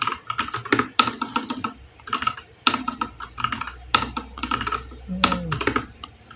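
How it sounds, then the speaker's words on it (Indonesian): Rapid bursts of typing on a computer keyboard, close and crisp, with quick clustered keystrokes separated by short pauses and a faint low hum underneath. "lalu kita jalankan cheaternya dengan cara kita buka terminal lalu ketik php artisan"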